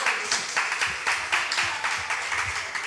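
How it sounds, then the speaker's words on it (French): An audience claps steadily in a hall during a Cameroonian comedy show, with a rhythmic pattern of beats running evenly throughout, moderately close and without speech over it. "Qu'on applaudisse très fort encore pour elle."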